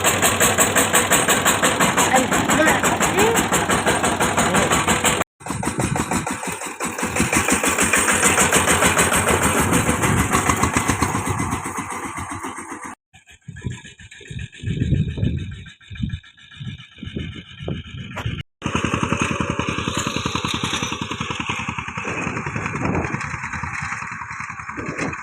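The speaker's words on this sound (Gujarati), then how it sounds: "પપ્પા સનેડો ચાલુ કરે છે, જોઈ શકો છો અહીંયા સનેડો ચાલુ કરે છે" A small mini tractor engine, known locally as a sanedo and started with a pull rope, runs loud and close with a steady chugging rumble that cuts out, sputters, then picks up again, with a voice speaking at times.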